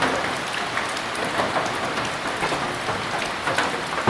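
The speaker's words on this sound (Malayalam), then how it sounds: "ഭയങ്കര മഴ കേട്ടോ" Heavy rain pours steadily in Periyar forest, a dense, continuous hiss of downpour close around with no voices.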